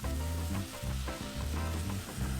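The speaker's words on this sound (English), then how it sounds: "take the mixture I made earlier on the blender, and I'm just going to add everything to my pot." A blended mixture for Mexican white rice is poured into toasted rice in a pot, setting off a loud, steady sizzle of frying with stirring, close and continuous without pauses.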